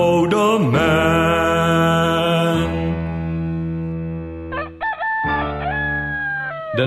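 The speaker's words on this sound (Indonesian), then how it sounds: "Dan segera ayam berkokok," A rooster crows loudly and close by in a long, drawn-out call, followed by a few shorter rising bursts, with a sustained musical tone running underneath.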